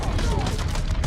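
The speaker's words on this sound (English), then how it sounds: "I see him firing." Continuous, dense gunfire from the Mafia game, packed together into a loud, unbroken rattle over a brief moment, with voices mixed into the din.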